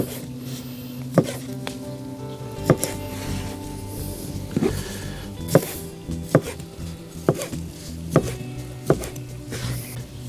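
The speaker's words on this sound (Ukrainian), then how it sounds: "Ну а тепер наріжемо мисливські ковбаски. Нарізатиму наступним чином. Десь по 3 см, от такими шматочками." A knife chops hunting sausages into roughly 3 cm pieces on a board, with about a dozen crisp, irregularly spaced thuds up close and no talking.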